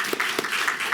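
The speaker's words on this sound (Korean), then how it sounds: "우리 서로에게 격려의 박수 한번 주시면 어떨까 싶습니다." Church congregation applauding during a Sunday service, a brief burst of dense clapping from many hands, moderately loud and filling the room.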